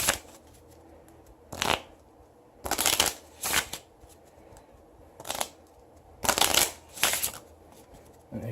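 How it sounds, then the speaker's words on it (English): A deck of 26 game cards being shuffled back together by hand on a tabletop, close and crisp, in several separate riffling bursts with short pauses between them, no talking. "Shuffle them all back together."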